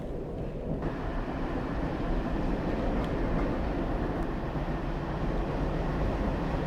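Metro train running in the Metro Simulator video game, a steady dense rumble and rolling hum held at a constant level throughout, with no voices over it.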